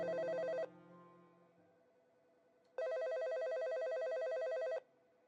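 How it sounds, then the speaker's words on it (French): An electronic telephone ring sounds in two bursts, one short and one longer, loud and clear against a quiet background with no talking. "Je commence à être un peu inquiet lorsque le téléphone sonne."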